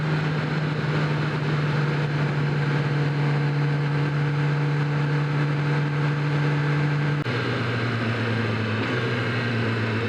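A Kawasaki ZX10R motorcycle engine drones in a steady tone while riding, its pitch stepping down abruptly twice near the end as the revs drop.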